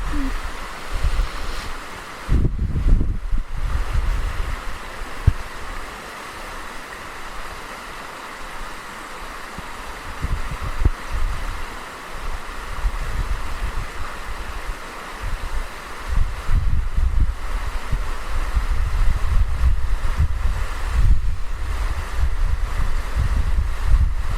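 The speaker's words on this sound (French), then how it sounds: "Rafale de vent là. J'adore." Outdoor wind gusts in a turbulent, low rumble that swells and buffets the microphone in waves, stronger toward the end, with no voices.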